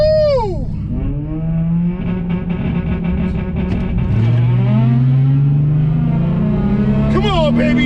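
A 3.5L V6 Dodge Charger with a ported throttle body drag races a Honda at Orlando Speed, its engine loud and close, revving and climbing through gears with rising whines while a person talks and cheers over it.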